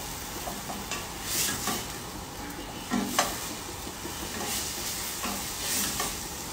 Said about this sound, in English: So we are going to be cooking this paste out.